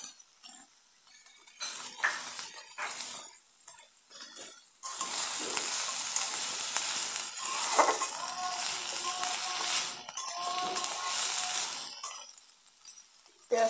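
Chopped onion and garlic cloves sizzle steadily in a pan with occasional stirring clinks and scrapes, a continuous close frying hiss with no talk.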